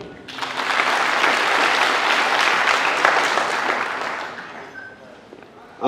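Sustained audience applause from a crowd at a French-language training seminar, steady and loud for several seconds before tapering off near the end.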